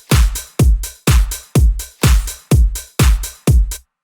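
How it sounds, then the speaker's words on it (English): A punchy pop drum pattern in a 2000s-2010s style plays alone and loud, eight evenly spaced hits with deep kick weight and bright clap and hi-hat tops, each decaying quickly before the next. "So then the drums together sound like this."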